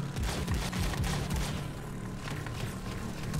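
Gunfire from the Robo Recall VR video game forms a dense, continuous barrage of shots and booms layered over game sounds and music. The din is loud and fills the whole stretch.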